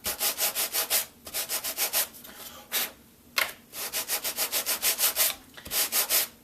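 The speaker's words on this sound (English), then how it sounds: "now we're just going to take off some sandpaper" Sandpaper rubs across embossed cardstock in quick, even back-and-forth strokes, close and alone, with short pauses between bursts of sanding.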